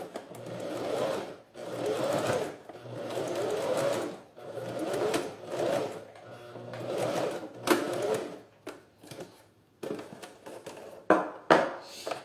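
A sewing machine stitches a synthetic toiletry bag in several medium-length whirring runs separated by short pauses, ending in brief stops and clicks.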